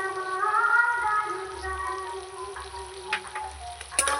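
Ginger and garlic frying with vegetables in a hot pan for a festive home lunch, a steady close sizzle with crackling spatters throughout, with a few sharper stirring clatters near the end.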